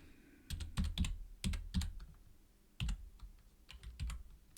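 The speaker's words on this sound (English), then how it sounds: "I got this new keyboard. It's kind of cool." Fingers type on a new computer keyboard in irregular bursts of crisp key clicks and thocks, close and fairly quiet, with short pauses between flurries.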